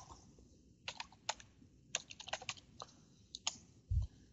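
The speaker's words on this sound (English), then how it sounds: "we will then type IP VPN enable." Typing the networking command IP VPN enable on a computer keyboard while setting up a layer 3 virtual service network: a close run of irregular, crisp key clicks in short bursts, with no voices.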